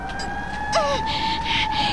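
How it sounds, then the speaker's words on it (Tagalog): A fire truck siren wails from a distance, its rising and falling tones cutting through a steady background hum. "Hala, nakabati ako sa sirena sa bumbero sa malayo."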